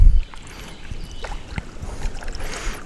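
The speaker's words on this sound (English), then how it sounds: "Try to paddle us to the turtle." Canoe paddling on the Santa Fe River, soft dips and swishes of the paddle in the water with faint splashes and light wind noise, close by.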